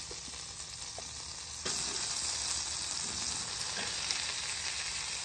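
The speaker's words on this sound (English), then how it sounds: "I'm going to start cooking the onions now." Onions are dropped into butter and oil on a Traeger griddle set to low, and a quiet sizzle swells into a steady, close frying hiss that carries on with no talking.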